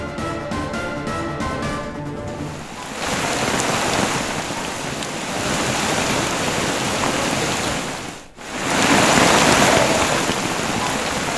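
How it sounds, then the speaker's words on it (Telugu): Torrential rain lashing Jubilee Hills and Banjara Hills in Hyderabad, a loud, dense roar of downpour that swells and dips briefly before surging back, with no voices. "జూబ్లీ హిల్స్, బంజారాహిల్స్ లో కుండపోత వర్షం పడుతోంది."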